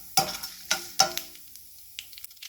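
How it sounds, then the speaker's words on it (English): Gongura (roselle) leaves sautéing in a pan for an Andhra pickle tempering: three sharp spatula scrapes close together, then softer taps and a faint sizzle trailing off, near and without speech. "So just saute it a little till the aroma comes out."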